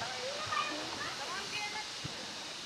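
A shallow river at Balite Pangil Falls in Amadeo, Cavite flows with a steady broadband rush and hiss, constant and moderately close, with faint voices of people playing in the water mixed into the background.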